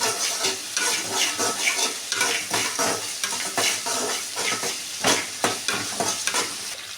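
Onions frying in a pan for a black-eyed pea sundal, with steady sizzling and repeated scraping stir strokes throughout, close and fairly loud, no talk.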